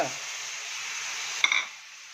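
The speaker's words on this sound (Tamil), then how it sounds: "சேர்த்துட்டு நல்லா இதை வந்து நல்லா வதக்குங்க நல்லா வதக்குங்க" Ground masala paste for vandi kadai masala sundal sautéing in oil in a pan, a steady close hiss with a brief clink and stir near the end, no talking.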